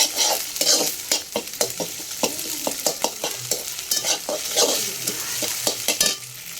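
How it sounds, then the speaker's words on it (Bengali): Green chillies stir-fried with egg in a pan, a spatula scraping and tapping in a quick, uneven rhythm over a steady close sizzle. "সামান্য একটু কাঁচামরিচটা দিয়ে দিই, যেন হালকা হালকা একটু ঝাল হয়"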